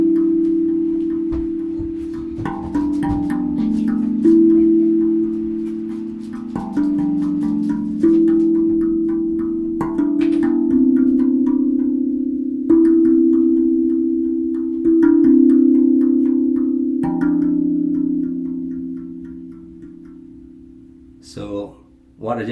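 A 13-note copper tongue drum played with thumb and fingers rings out in a sequence of sustained, overlapping metallic tones, each note struck clearly and close by, with a brief rattle at the end.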